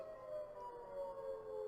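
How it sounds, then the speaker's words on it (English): A tornado siren wails steadily in the distance, a faint sustained tone that drifts slightly downward in pitch and carries through the whole moment with no talk over it. "I can tell there's a tornado siren in the background"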